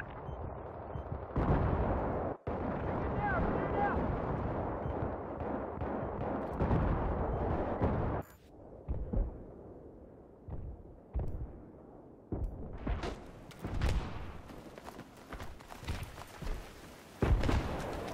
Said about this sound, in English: Now Moff's doing a good job mortaring that B point just to keep their heads down.